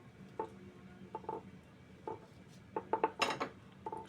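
A spoon stirring cashews, pumpkin seeds and pistachios into fruit custard in a bowl, with soft scrapes and several light clinks against the bowl, quiet and close.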